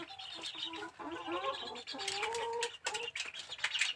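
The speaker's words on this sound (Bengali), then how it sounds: "এই জোড়াটি হচ্ছে সিলভার কোচিনের প্যারেন্টস।" Silver Cochin chickens, a molting breeding pair with rooster and hen, give soft, close clucks and chattering calls in a steady, busy run of short notes with no one talking.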